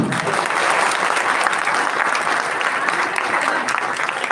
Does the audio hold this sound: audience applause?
yes